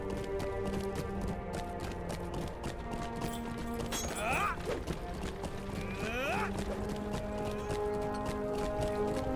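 Horse hooves in the Lord of the Rings Online video game clip-clop in a steady, continuous trotting rhythm, with tonal game sounds layered underneath and brief rising sweeps partway through.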